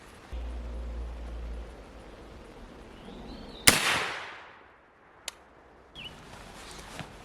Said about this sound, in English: So I'm going to go ahead here at 25, shoot my first group